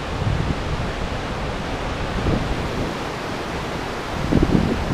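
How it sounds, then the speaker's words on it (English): A waterfall in Yoho National Park, Canada, gives a steady, dense rushing roar that stays loud and even throughout, with no voices over it. "That's a waterfall."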